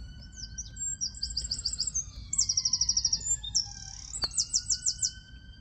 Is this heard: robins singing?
yes